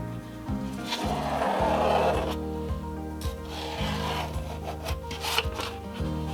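A Sharpie marker scratches along a block of pillow foam to outline the cutting lines for a model shipping box, making close, raspy rubbing strokes over a steady low hum.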